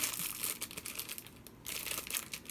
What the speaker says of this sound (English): This is a plastic baggie.